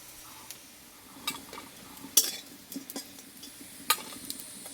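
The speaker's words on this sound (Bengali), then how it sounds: "সবগুলো আমি একই প্রসেসে ভেজে নিলাম" Soft steady sizzling of pumpkin-leaf pakoras frying in oil, with occasional sharp clinks and scrapes of a utensil stirring, no voices.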